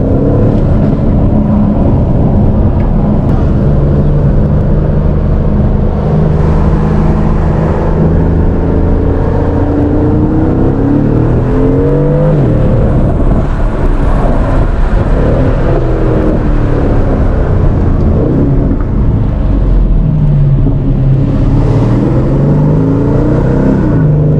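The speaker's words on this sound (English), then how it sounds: "The exhaust note on this car sounds so amazing." A 2018 Aston Martin DB11 V8 in sport mode accelerates loudly from the driver's seat, its exhaust rising and falling through repeated revving climbs and gear changes, with a continuous roar and no talk.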